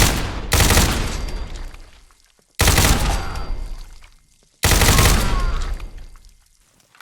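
Fully automatic gun from a Fallout 4 mod weapons pack fires three long, loud sustained bursts, each trailing off into an echoing decay before the next, with no talk over the shooting.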